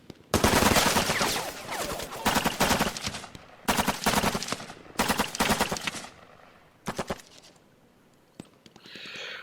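Bursts of automatic gunfire and rapid single shots from the wargame Lock 'n Load Tactical Digital, loud and close, coming in several dense volleys separated by short pauses, then thinning to a few isolated shots and a faint tail.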